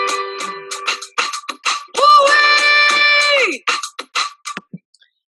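Singer doing a woo-ee vocal warm-up exercise, a series of short sung syllables followed by one longer held tone, then more short notes, close and alone.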